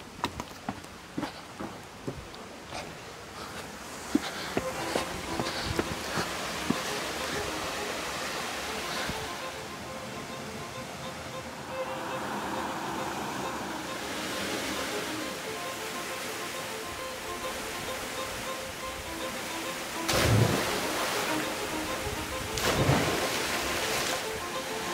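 Clear mountain river water flows beside a forest in a steady broadband rush, with occasional louder swells and some faint knocks and handling noise near the start.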